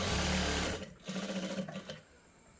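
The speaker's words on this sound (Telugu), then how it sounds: "ఈ విధంగా ఫస్ట్ ఒక కుట్టు వేసుకోవాలి" A sewing machine stitches the front of a blouse in a quick, close whirring run, slowing briefly and then pausing, with no talk over it.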